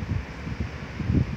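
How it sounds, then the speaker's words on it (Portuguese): Light wind from Hurricane Leslie in Viseu, Portugal, rumbles as soft low gusts and buffeting against the microphone, rising and falling in uneven pulses for about a second and a half with no voices. "Tá um vento fraco."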